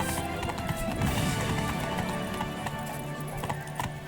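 Roach, a horse in The Witcher 3, gallops in a steady rhythm of hoofbeats that carries on through the whole stretch, with a whinny rising over the footfalls and game music in the background.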